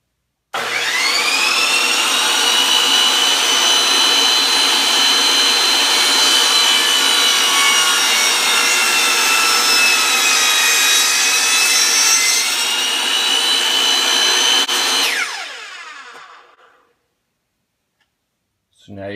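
A power saw rips through a clamped black walnut board for workbench sides, a loud, sustained whining cut held steady for about fifteen seconds before spinning down and falling silent.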